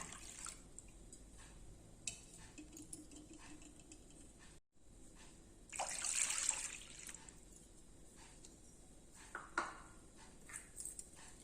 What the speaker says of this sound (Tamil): அடுப்பில் பேன் போட்டிருக்கேன் இந்த பால் வந்து ஊற்றிடலாம்